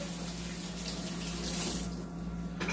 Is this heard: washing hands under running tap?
yes